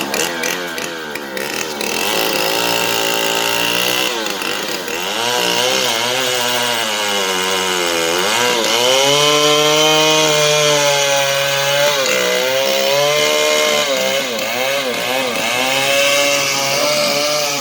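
A chainsaw cuts into a tree during manual tree felling, its engine loud and close, holding a strong buzzing drone that rises and falls in pitch as it revs through the wood, with no voices.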